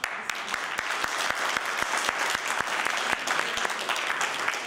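A seminar audience claps for a newly introduced speaker, with sharp individual hand claps standing out from a thick, even wash of applause that holds steady for several seconds.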